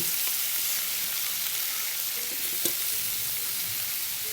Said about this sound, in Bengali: টমেটোগুলো আমি সেদ্ধ করে নেব সেজন্য অল্প তেল দিয়ে দেখেন এভাবে দিয়ে দিচ্ছি